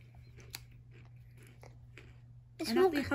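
Someone bites and chews a crunchy banana potato snack close to the mic, with a few sharp crunches spaced out over a quiet background, then a voice begins talking loudly at the end.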